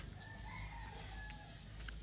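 Chickens cluck and a rooster crows close by in a short, fairly quiet burst of fowl calls, with no talking.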